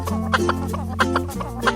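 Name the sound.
chicken clucking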